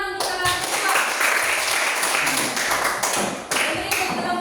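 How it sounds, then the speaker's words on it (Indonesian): An audience claps for a student group at a classroom presentation, a dense, steady patter of hands lasting throughout, fairly close and loud. "tepuk tangan untuk kelompok 2"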